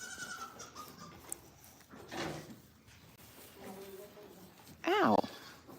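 Goats on a goat farm bleat in short, wavering calls, scattered and fairly close, with one louder bleat near the end, amid quiet shuffling and brief bits of talk.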